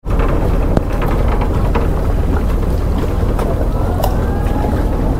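A houseboat moves on the wide Alleppey backwater lake in Kerala, with a steady loud wash of engine and water under heavy wind buffeting across the microphone the whole time.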